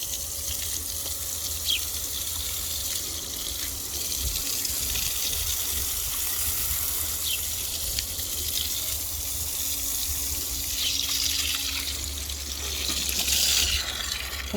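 Water pours steadily onto a bin of European night crawler worms in a garden during a heat wave, a close, continuous splashing gush that runs unbroken for a long stretch.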